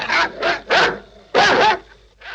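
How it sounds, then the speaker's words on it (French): A dog barks repeatedly nearby, five loud, rough barks in an irregular rhythm with brief pauses, one a quick double bark, and no talking over them. "Lindsay, tu n'entends pas que Lester gueule? J'en ai ras-le-bol de ce chien qui se taise."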